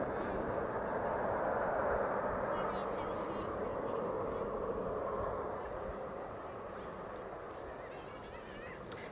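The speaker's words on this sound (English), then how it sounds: "The citation landing in just then is due back out to Southend at about 10 past" Cessna Citation business jet landing at East Midlands Airport, a distant, steady engine roar that slowly fades. A voice talks over it.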